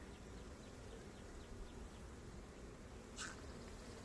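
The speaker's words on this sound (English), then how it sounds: "the cutout hive is alive and well" Honeybees in a cutout hive, a faint steady buzzing hum under quiet outdoor background, with one brief sharper buzz as a bee passes close.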